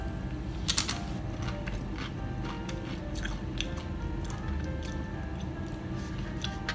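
Soft, close crunches and moist chewing sounds come as someone eats Indian food, with irregular bites and clicks over a low background hum.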